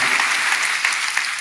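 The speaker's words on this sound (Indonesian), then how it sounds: "Tepuk tangan buat Tuhan kita Bapak Ibu yang dikasih oleh Tuhan." A church congregation applauding during an Indonesian worship service, a steady dense wash of clapping that holds at the same loudness throughout and stays fairly close, with no voices on top.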